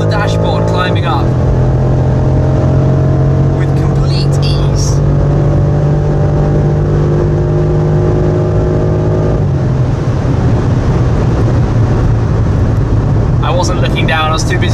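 A BMW M5 accelerating hard away from a gap in traffic, heard from inside the cabin as a loud engine note that climbs steadily through the gears with a shift partway, while someone talks over it.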